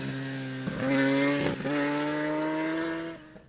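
A Kawasaki H2 motorcycle ridden on a public road gives a loud, steady, droning engine note. The pitch dips briefly at two points, likely gear changes, before the tone settles again and fades near the end.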